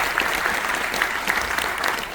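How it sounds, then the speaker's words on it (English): Audience applause at a live comedy show aboard a Royal Caribbean cruise ship, a steady crowd wash of clapping that stays loud and full throughout the short stretch, with faint cheers mixed in. "Give them a round of applause"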